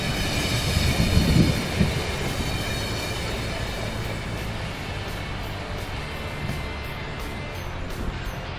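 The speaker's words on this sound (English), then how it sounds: "This is one of the storm trains going the inland route." An Amtrak passenger train on a storm detour rumbles past steadily and loudly in Worcester, Massachusetts, a continuous broad roar of wheels and cars on rails with no pause, close to the listener.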